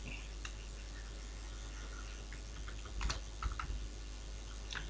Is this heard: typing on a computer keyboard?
yes